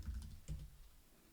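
Computer keyboard typing: a short burst of soft key clicks, then a brief pause and a couple more taps, close and fairly quiet over a low room hum.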